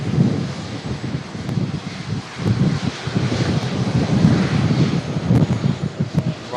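Airbus airliner taxiing past quickly at Manchester Airport, a steady broadband jet engine rumble and roar, fairly loud and close, with gusty wind buffeting the microphone throughout.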